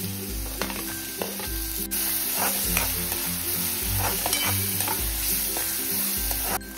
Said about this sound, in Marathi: इथे ना बारीक चिरलेला कांदा टाकायचा आहे